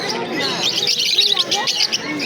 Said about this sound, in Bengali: এইখানে বদ্রি পাখি আছে দাদা